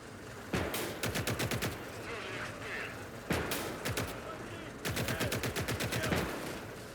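Gunfire in Call to Arms: Gates of Hell, three separate bursts of rapid automatic fire, each a string of sharp cracks, with brief pauses between them and a voice heard faintly.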